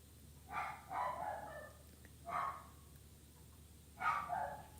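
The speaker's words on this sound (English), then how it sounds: "I don't know what he's barking at." A small dog barks a few times from a short distance, quick double yaps separated by pauses, fairly faint over a quiet room.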